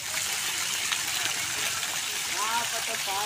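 A waterfall in Nirmal Mahto Park, Hazaribagh, pours in a constant broadband rush of falling water, close and steady, with a faint whistle near the end.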